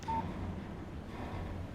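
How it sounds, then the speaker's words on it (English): A phone text message alert chimes in the video game Alan Wake, a short electronic tone at the start over a steady background hum. "Text message from Barry."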